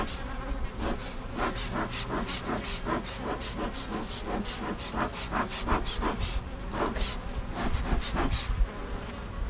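Honey bees swarming close around a hive during winter preparations, a dense, continuous buzzing hum with wingbeats pulsing in a rapid rhythm, loud and near throughout.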